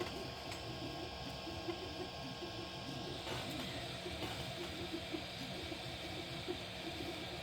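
A Sovol SV06 Plus 3D printer runs steadily at close range, with a soft mechanical hum and faint rhythmic stepper ticks over a hiss of fan noise.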